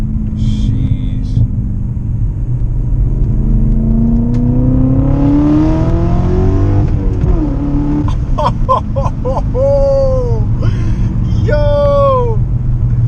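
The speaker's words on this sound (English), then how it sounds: "We are riding in my E39 BMW M5." A BMW E39 M5 engine rumbles steadily from inside the car while driving on a tree-lined road. The pitch swells and rises in a sustained rev midway, with brief high tonal sounds layered on top near the end.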